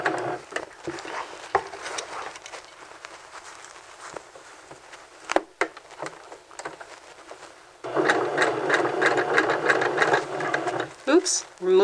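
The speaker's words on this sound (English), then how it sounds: "Let's go ahead and do a couple of stitches and then back stitch. And sew all the way down." A sewing machine stitches the seam of a men's vest, running in short bursts with soft handling clicks, then settling into a steady, louder continuous hum of stitching to the end; a person talks over parts of it.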